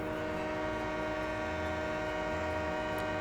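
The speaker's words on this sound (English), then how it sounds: "And the train whistle." A locomotive whistle in Farming Simulator 17 blows one long, steady, loud note as the train crosses a bridge over a frozen river, with rail rumble beneath it.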